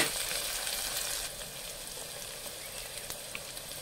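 Mutton with fenugreek leaves and green chillies frying in a pan, a steady close sizzle with faint crackles and no talk, fading a little after the first second.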